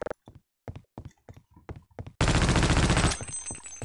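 An M249 machine gun in Half-Life: Opposing Force fires one loud, dense sustained burst, preceded by a series of separate sharp thuds and clicks, close and unaccompanied by voices.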